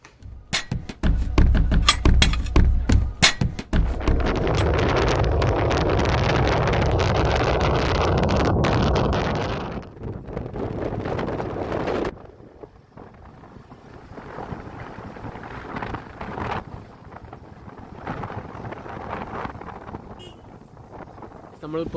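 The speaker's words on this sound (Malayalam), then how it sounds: "അതാണ് റൈഡിങ് കോസ്റ്റ്യൂംസിലൊക്കെ ബൈക്കിലാണ് പോകുന്നത്" Heavy wind roars across a motorbike ride to the Gundlupet sunflower fields, loud and buffeting for about ten seconds before easing into quieter rushing air with faint engine and road noise.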